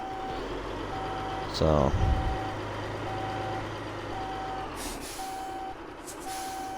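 A truck on an Alaskan ice road reverses, its reversing alarm beeping in an even, steady rhythm over a constant engine rumble, with a brief air-brake hiss early on and a short spoken word.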